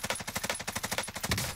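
Rapid automatic gunfire in the shooter game Call of Duty Warzone, fired with a Bruen rifle: a fast, even burst of about a dozen sharp shots, close and loud, ending in a heavier impact.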